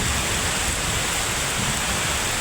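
Heavy rain pours down in a dense, even hiss during a cold downpour in Kerala. It is loud and continuous, with no gaps and no voices.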